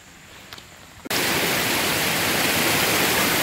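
A waterfall near an old mill in Dayville, Connecticut roars as a loud, steady rush of water that cuts in abruptly after a quieter second.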